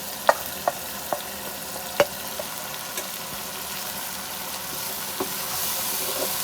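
Ground spices such as coriander, salt and turmeric frying for homemade keema, stirred with a utensil that scrapes the pan in a few sharp, spaced clicks over a low, steady sizzle.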